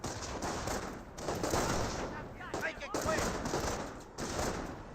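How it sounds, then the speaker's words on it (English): Dense, continuous rifle and machine-gun fire crackles across a Company of Heroes battlefield around a garrisoned building with a firing window. It plays under a talking voice throughout. "Panzer Grenadiers receive quite a bit of fire there."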